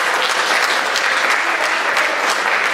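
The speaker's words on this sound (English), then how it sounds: "Give them a round of applause." An audience at a school awards ceremony claps steadily in a dense, even round of applause, loud and continuous with no voices over it.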